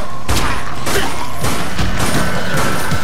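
Rapid bursts of gunfire blast at zombies in the video game Dead Nation, loud and dense with repeated sharp impacts and crashing hits across the whole stretch.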